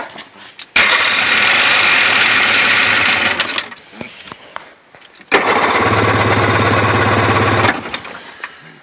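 A Sea-Doo personal watercraft with a 3D carburetor setup, just refilled after running dry, sputters to life twice: each time a loud, steady engine drone runs for about three seconds, then cuts out, with brief rattles and clicks between the runs.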